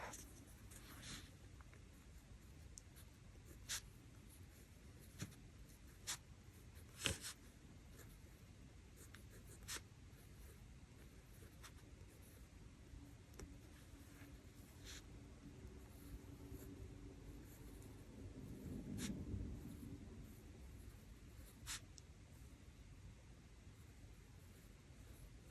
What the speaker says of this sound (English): I'm going to use a Sakura Jelly Roll pen in white to write on it